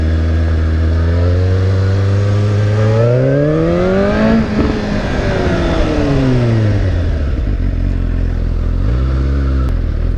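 Motorcycle fitted with a Yoshimura Alpha exhaust and signature baffle, revving loudly and close: pitch climbs to a peak and falls away, then rises again, with a fairly muted tone and light popping on the decel.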